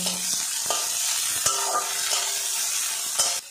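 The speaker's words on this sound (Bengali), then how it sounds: "এবার এগুলো আমি হালকা করে ভেজে নেব।" Chopped onion and green chili sizzle in hot oil in a pan while being stirred, a steady frying hiss with clinks and scrapes of a utensil throughout, no voices.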